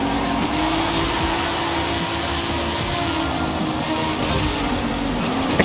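A Rocket Bunny Nissan S15 race car in a racing video game, its engine droning loud and steady throughout with a sustained, slightly wavering pitch and a faint hint of tire noise, no talking.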